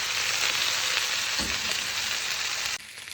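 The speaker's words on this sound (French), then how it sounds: "Et on mélange en faisant sauter." Rice, courgette and mint being stir-fried in a wok give a loud, continuous close sizzle that cuts off abruptly at the end.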